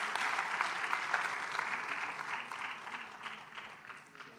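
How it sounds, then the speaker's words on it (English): Audience applause for a team at a competition finals event, a steady broadband wash of many hands clapping throughout, moderately distant and fading slightly toward the end, with no talking over it. "Let's give them a big round of applause."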